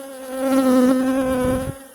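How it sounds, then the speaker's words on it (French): Honey bees at a beehive, a loud close buzzing drone with a steady pitch that swells and holds for about two seconds before fading, no talk. "je vois qu'il y a quand même pas mal d'abeilles"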